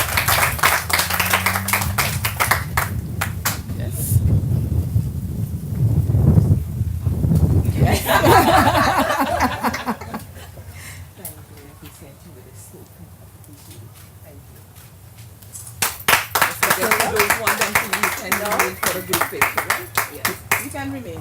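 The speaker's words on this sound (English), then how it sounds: "Let's give her a round of applause, please." An audience at a Women's Desk logo unveiling gives bursts of clapping and applause, loud and close, interrupted by a stretch of talk, then rising again toward the end.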